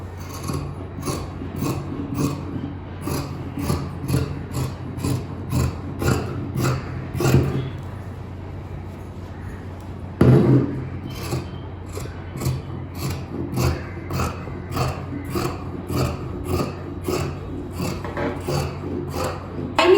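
Scissors cutting through chudidar kameez fabric, heard as a close, rhythmic series of crisp snipping and rasping strokes that pause briefly midway with a clunk and then resume, with no talking.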